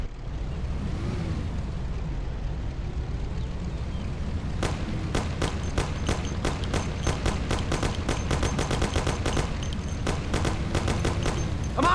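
Thompson submachine gun fire in the Mafia video game, rapid bursts of automatic shots cracking out over a steady engine rumble and road noise, starting partway through and continuing in dense rattling volleys.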